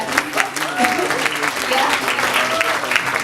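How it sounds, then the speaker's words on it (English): An audience at a press conference applauds the artists, dense continuous clapping close and loud with some voices mixed in. "we're gonna clap for the artists"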